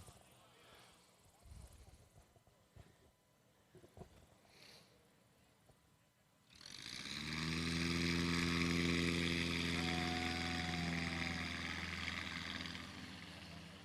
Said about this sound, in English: After we get the noise from the Super Rebel out of the way